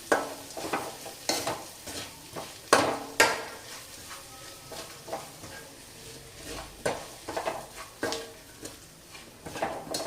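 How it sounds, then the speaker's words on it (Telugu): A cumin and rice mixture gets stirred in a frying pan, a soft continuous sizzle broken by repeated scraping strokes of a spoon against the pan, close and fairly quiet. "ఇప్పుడు మొత్తం ఒకసారి కలిపేసుకున్నాం."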